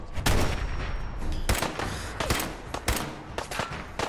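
Rapid pistol gunfire in the video game Fallout 4, a dense run of sharp loud shots fired in quick succession with short gaps, close and dominant, no talking over it.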